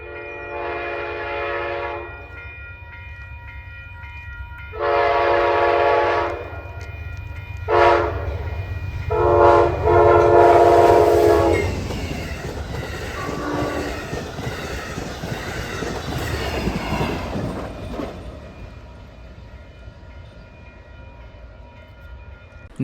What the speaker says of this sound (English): here comes the northbound Downeaster